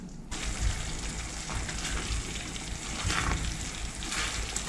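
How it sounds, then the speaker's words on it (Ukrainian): A pan of sauce with sugar bubbles and sizzles steadily as it stews, a continuous soft crackle of cooking, with no talking. "і далі протушкую декілька хвилин"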